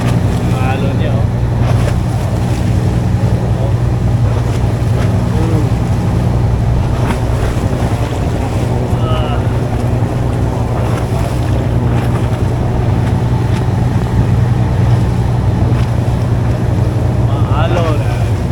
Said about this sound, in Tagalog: Nasa laot na kami. Lakas maalon mga tolits, maalon oh.